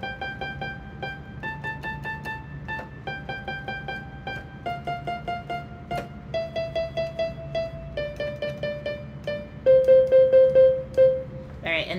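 A simple bread song melody is played on a piano keyboard, single notes in a steady, unhurried rhythm with held tones, clear and close, no talking over it.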